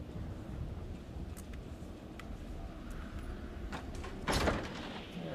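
Door opening inside the horror video game Until Dawn, a short mechanical sliding or creaking burst rising out of a steady, murky ambient drone, standing out near the end of the stretch.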